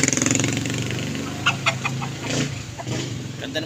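A pure high action breed rooster clucks in a close, loud series of rapid calls, with a few sharper accented clucks breaking through near the end.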